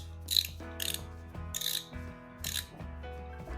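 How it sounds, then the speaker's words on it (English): Fishing reel ratchet clicking as the drag cap is turned off, a close, loud run of rapid mechanical clicks in several bursts with no talking. "take off your tension knob or your drag cap"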